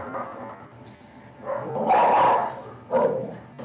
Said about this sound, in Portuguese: vocês vão escutar o barulho do cachorro